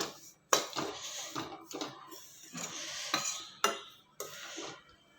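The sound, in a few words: mixing chutney powder ingredients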